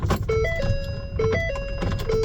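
A car parked in front of a house door with its power windows running, repeated electric motor whines rising and falling in several short cycles, close and clear with no talking.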